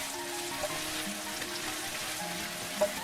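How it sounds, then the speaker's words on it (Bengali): Garlic, green chilli and chopped onion fry in a pan for a chilli baby corn sauce, giving a steady, even hiss of sizzling oil throughout with a couple of faint clicks and no talking. "ভালো করে একটু ফ্রাই করে নেব সবগুলো"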